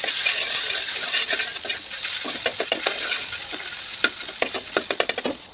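Tilapia fish head rubbed with turmeric frying in hot oil in a wok, a steady close hiss and sizzle with sharper spattering pops growing more frequent toward the end, no voices.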